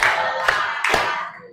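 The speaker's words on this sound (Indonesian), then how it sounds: "tepuk satu, tepuk satu, tepuk dua, tepuk tiga" A classroom of students clapping together in a short counted rhythm, a few loud bursts of group claps close by, with the leader's voice chanting over them.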